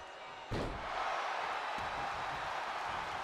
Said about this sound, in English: Slamming her head first back down onto the mat.